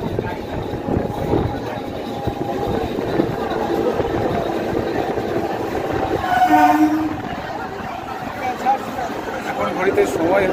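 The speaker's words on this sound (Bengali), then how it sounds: "আমাদের ট্রেন বাগনান স্টেশনে ঢুকলো" Local train on the Santragachi to Digha line rolling into Bagnan station, a steady loud rumble of wheels and carriages with a brief horn-like tone midway, people talking over it.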